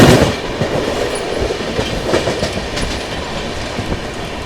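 Two Indian express trains run side by side at speed, seen from a sleeper-class carriage, with a loud, steady rumble and rhythmic clickety-clack of wheels over rail joints and no voices.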